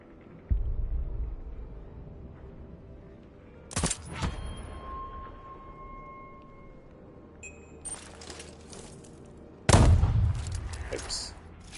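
Gunshots in a video game: a few sharp isolated shots with booming low tails, one early, a louder one near the middle and a heavy blast toward the end, separated by quieter ambient hum and faint tones.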